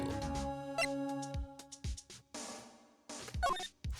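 A cell phone ringtone plays in the Phoenix Wright: Ace Attorney video game, a bright repeating melody with steady tones, moderately loud and heard alone without talk.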